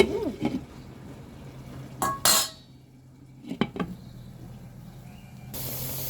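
A lid goes onto a cooking pot of chicken and soft-boiled potatoes. There are a few metallic clinks and clatters, with one sharp clang partway through, over a quiet kitchen hum. The sounds come close and alone, without talk.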